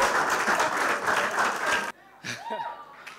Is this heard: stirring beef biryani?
no